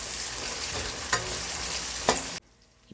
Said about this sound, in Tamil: இப்போ வெங்காயத்தை வந்து லைட்டாக வதக்கிக்கிறோம்.